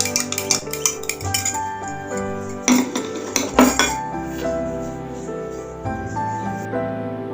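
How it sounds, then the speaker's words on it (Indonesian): Salt being stirred into water until it dissolves, with a spoon clinking against the container a few times over steady background music. "homogenkan atau aduk sampai garam larut dalam air"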